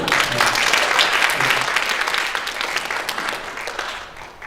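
A church congregation claps together in a sustained, dense round of applause that stays strong, then gradually fades toward the end.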